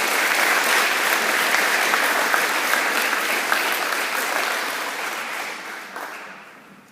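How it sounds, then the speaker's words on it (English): Steady applause from an awards ceremony audience greets student scholarship recipients, a dense wash of clapping that holds for several seconds and then tapers off toward the end. "let's give them a round of applause"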